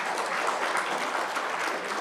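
A hall audience at a power-sector conference session applauding panelists, a continuous, even roar of many hands clapping throughout.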